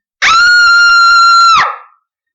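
A woman in a kitchen lets out one loud, sustained, high-pitched scream lasting over a second, ending abruptly with a brief trailing echo, alone and close.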